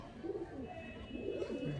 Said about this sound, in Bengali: এসব ঘরের পিওর পায়রা এসব মাদি আছে মাদি পায়রা